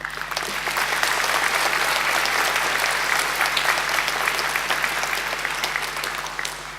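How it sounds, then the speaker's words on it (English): An audience at a graduation ceremony applauds steadily, a dense wash of clapping that holds at full volume throughout with a faint low hum beneath. "she does deserve another great round of applause"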